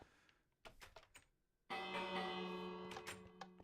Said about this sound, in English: Oh, look, I have a doorbell.